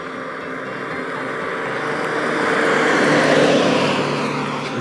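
The Jaguar XK engine of a 1967 Jaguar 420 runs with a steady, rich rumble that swells gradually in loudness before easing slightly, heard close by without talking.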